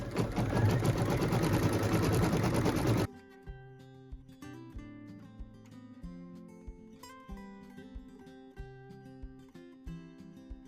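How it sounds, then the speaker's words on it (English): A sewing machine stitches quilting through a quilt border, a loud steady whirring run for about three seconds that then cuts off, leaving light background music. "So now we get to go ahead and stitch the beautiful quilting"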